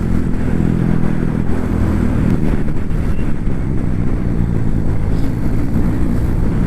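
A motorcycle rides along an empty mountain road on the Badrinath route in Uttarakhand, its engine droning steadily and close, with constant wind buffeting the microphone.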